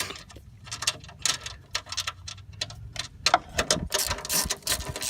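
A small ratchet clicks in quick irregular bursts while loosening bolts during a water pump job on a 2002 Buick Rendezvous, close and crisp, with short pauses and some metallic handling noise.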